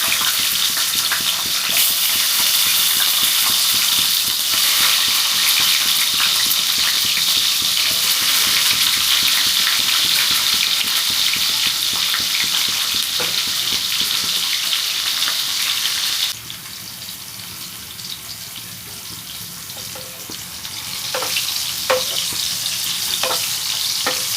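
Loud, steady sizzling of salted capsicum frying in hot oil, with occasional stirring; the hiss drops abruptly partway through, then small clinks and bubbling continue.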